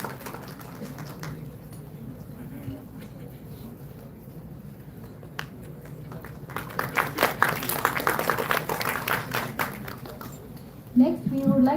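Guests at an institutional function honouring the chief guest begin clapping partway through, the scattered claps swelling into fuller applause after a quieter stretch of low room murmur.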